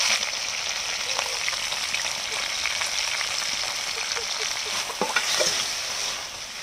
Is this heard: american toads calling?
no